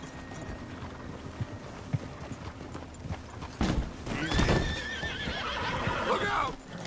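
A horse in the Red Dead Redemption 2 video game clops its hooves steadily, then gives a loud, close whinny midway, with a voice briefly heard over the hoofbeats.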